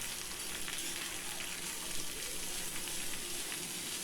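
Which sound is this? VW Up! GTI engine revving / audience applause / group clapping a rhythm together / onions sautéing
onions sautéing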